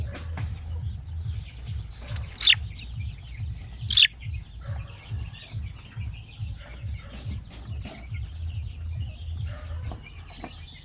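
One-month-old sampin native chicken chicks chirp in a lively flock, with repeated short tweets and a few louder peeps over a soft rhythmic low thumping.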